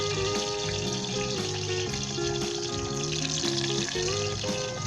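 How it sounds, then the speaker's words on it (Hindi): Onion, garlic and ginger fry in desi ghee with a steady, continuous sizzle and crackle, close and unbroken, while a faint musical background plays underneath. "हम फ्राई करेंगे अच्छी तरीके से।"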